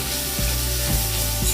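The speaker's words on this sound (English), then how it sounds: "Let's give that a good stir." Miso ramen ingredients sizzle steadily in a hot pan while being stirred, with a constant loud frying hiss and soft scraping strokes roughly every half second.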